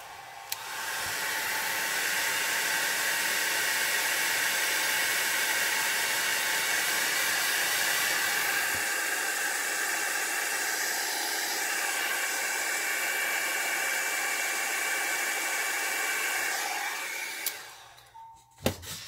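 Airbrush drying gun blowing a steady, loud rush of air over an alcohol-ink flower painting for about seventeen seconds before cutting off with a click.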